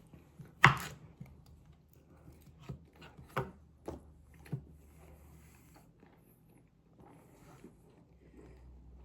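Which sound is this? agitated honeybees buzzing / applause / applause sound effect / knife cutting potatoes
knife cutting potatoes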